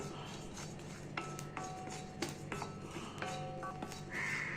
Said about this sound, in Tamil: அடுத்தது சீரகம், இதையை நல்லா வறுக்கணும்.